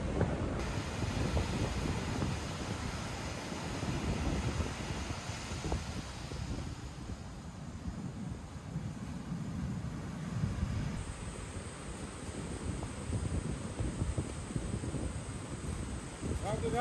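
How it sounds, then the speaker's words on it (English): Strong wind blows across a deserted ocean beach, buffeting the microphone with a loud, continuous low roar that rises and falls in gusts for the whole stretch. "But the wind is so loud, man."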